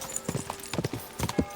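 Horse hooves clip-clop at a steady walking rhythm during a ride in the Kingdom Come video game, clear and close, with a few scattered louder steps.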